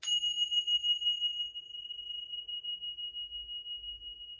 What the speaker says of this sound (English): Just going to ring the bell a few times.